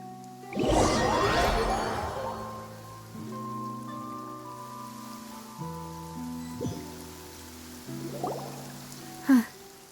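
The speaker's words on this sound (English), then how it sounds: "It's been raining non-stop for a few days." Rain in the video game Genshin Impact patters steadily under soft held musical tones. A loud rushing burst opens the passage, and brief chimes and swishes come later.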